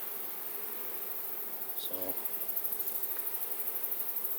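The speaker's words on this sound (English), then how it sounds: "And then I have a bunch of bees down here on the edge." Honey bees hum in a dense, continuous drone close to a beehive, the buzz swelling slightly midway, and a voice briefly speaks over it.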